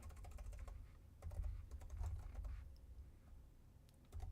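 Typing on a computer keyboard during a MySQL scripting session on Oracle Cloud, with irregular bursts of close, crisp key clicks pausing briefly between runs.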